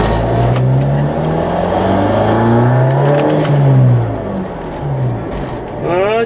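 BMW E30 revving hard during a burnout, a loud sustained engine drone with rising and falling pitch sweeps, close and continuous, with a brief voice near the end.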